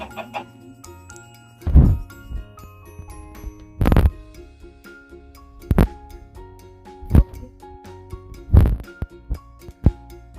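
In Minecraft survival play, a chicken gives short clucks among sporadic dull thumps over quiet, sustained in-game background tones.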